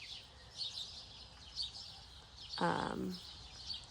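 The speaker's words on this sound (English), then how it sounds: "the chickens are being noisy" A brief burst of hen clucking rises once near the end, over faint, steady high bird chirps in the background.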